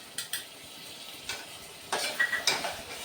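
Yogurt being stirred into prawn masala in a pan, with a few short scraping strokes and faint sizzling, close and fairly quiet, no talking.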